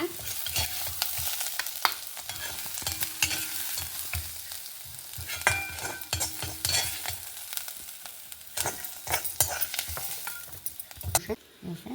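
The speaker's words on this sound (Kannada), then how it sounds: "ಚೂರು ಕಲರ್ ಚೇಂಜ್ ಆಗುವಷ್ಟು ಈರುಳ್ಳಿ ಫ್ರೈ ಮಾಡ್ಕೊಂಬ" Onions fry and sizzle in a pan for a spinach and onion chutney, with repeated scraping and stirring strokes over a steady close sizzle; no talking.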